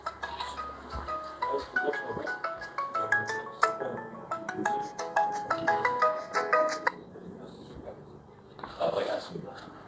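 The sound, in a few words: telephone ringtone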